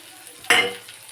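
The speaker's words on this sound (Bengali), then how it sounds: "আর গুঁড়ো মশলাগুলো দিয়েও একটু নাড়াচাড়া করে নেব তেলেতে।" Ground spices hit hot oil in a pan with a sudden loud sizzle, followed by a short stir, while cooking a curd fish curry; the burst fades quickly.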